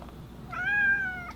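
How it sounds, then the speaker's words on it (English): A single cat gives one clear, drawn-out meow, close and fairly loud, heard alone against quiet room noise. "I gave my cat as much attention as I could"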